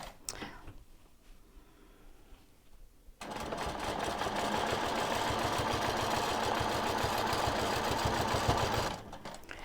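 A sewing machine stitching a quilt starts after about three seconds, running steadily with a fast mechanical chatter for several seconds up close, then stops, after quieter handling sounds.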